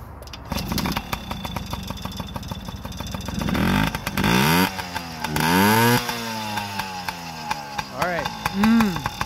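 A warmed-up Yamaha PW50 dirt bike engine runs up close during carburetor tuning, idling with a fast rattle and then rising and falling through several sharp revving blips.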